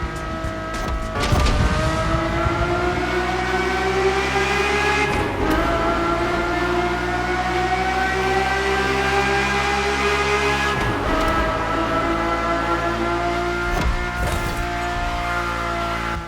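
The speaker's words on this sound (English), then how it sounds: "that's the godly sound of the F50" A Ferrari F50 engine in the video game The Crew Motorfest screams through gear changes, pitch climbing and dropping repeatedly with a sharp, sustained mechanical wail.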